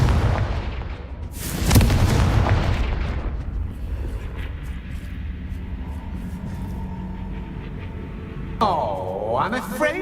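A Confringo spell explodes in Hogwarts Legacy, a heavy booming blast that rolls off into a long rumbling decay, followed by a brief whooshing magical shimmer near the end, with a voice speaking over it.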